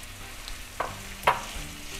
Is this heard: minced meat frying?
yes